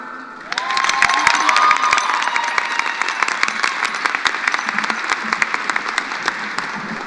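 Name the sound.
graduation audience applause and cheering for principal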